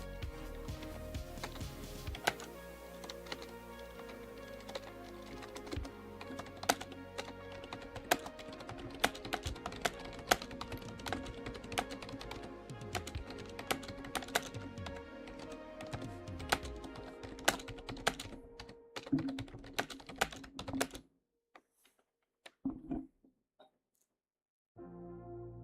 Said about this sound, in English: I can hear how fast you were typing.